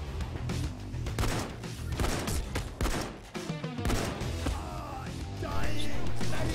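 Shotgun fire from several enemies in Payday 2 during a diamond store heist, loud bursts of game gunfire layered over a dense, chaotic mix of combat noise and music.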